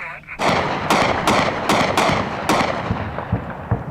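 A rapid series of sharp, heavy blasts from large artillery shells in combat in Afghanistan, about six close booms in quick succession followed by fainter thuds, with no talking.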